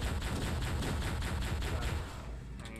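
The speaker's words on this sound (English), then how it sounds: "I'm shooting a million bullets at him" Rapid automatic gunfire in Halo: Combat Evolved rattles in a fast even burst for about two seconds, moderately loud, then drops to a quieter background.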